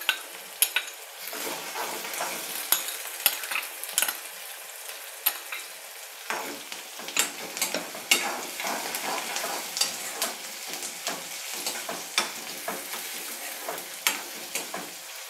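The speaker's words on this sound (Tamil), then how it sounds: "நல்லா ஒரு லைட்டாக ஃப்ரை பண்ணிக்கோங்க." Chopped onions and tomato fry lightly in a pan for a masala upma, a soft continuous sizzle broken by frequent sharp scrapes and clicks of a spoon stirring against the pan, close and without talk.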